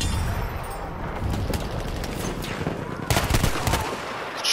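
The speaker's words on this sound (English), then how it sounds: "Enemy machine gun over there!" Enemy machine gun fire rattles in a first-person shooter game on the Achi Baba map, rapid overlapping bursts with a heavier volley late on, mixed with dense battlefield noise.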